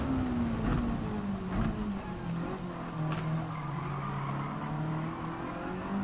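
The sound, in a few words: race car driving and tires skidding, Gran Turismo 7 video game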